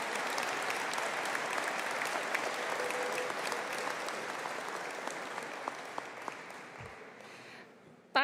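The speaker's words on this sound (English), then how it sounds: "And a big round of applause for our Higher Certificate in Arts in Culinary Arts and Bar Supervision." Steady applause fills a hall at a college conferring ceremony for culinary arts and bar supervision graduates. The dense clapping from a large audience holds evenly, thins a little toward the end, and no one speaks.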